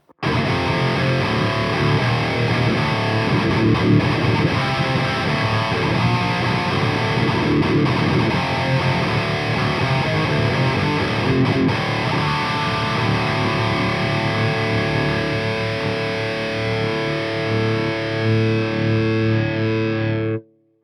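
A heavily distorted electric guitar with a boost pedal and noise gate plays continuously and loudly for about twenty seconds, thick and saturated, then cuts off abruptly at the end.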